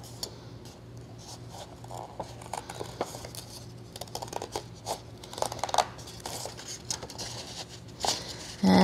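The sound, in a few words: small scissors cutting out paper feather shape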